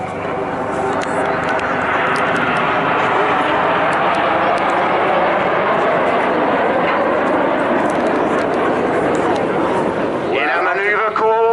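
Aircraft engine roaring loudly and steadily overhead as a plane performs a vertical break at the Bournemouth Air Festival, the drone fading abruptly near the end.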